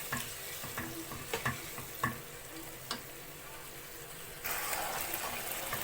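Chicken shawarma with onions is stirred as it fries in a pan. Irregular scraping knocks of the utensil sound over a low sizzle, and then a louder, steady frying hiss takes over near the end. No one talks.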